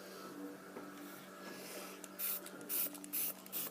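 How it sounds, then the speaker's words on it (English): Short hissing blasts of keyboard cleaning spray aimed at a laptop keyboard, four quick bursts in a row, close and fairly loud, following a quiet stretch of handling noise. "And then for your keyboard, you might want to use this spray."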